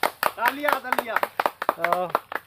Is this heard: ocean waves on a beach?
no